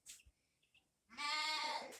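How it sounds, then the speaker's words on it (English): Young sheep on a small farm bleating near the listener, one long wavering bleat after a few faint quiet sounds, with no talk over it. "there's little sheep talking to me"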